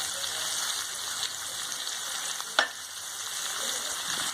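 Mixed vegetables with turmeric and salt fry in a pan for a Kerala theeyal, giving a continuous close sizzle with one sharp spoon clink partway through the stirring.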